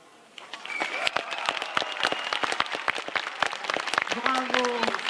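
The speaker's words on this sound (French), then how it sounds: "Ces applaudissements sont pour toi." A street-festival crowd in Quintin applauds a street singer with scattered, crisp claps, while a voice sings or speaks over the top and a brief tonal note enters near the end.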